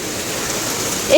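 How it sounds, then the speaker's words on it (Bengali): Rain falls steadily in a close, loud hiss of drops on surfaces, unbroken throughout and swelling slightly at the end. "উফ, এই বৃষ্টিটারই অপেক্ষায় ছিলাম"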